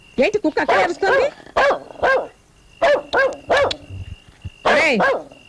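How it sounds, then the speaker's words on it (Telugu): Repeated loud barking from a dog in a movie scene, short harsh barks spaced in uneven bursts with brief pauses, close and clear, some speech blending in. "కుక్క ఎందుకు అరుస్తుంది చూడండి రా."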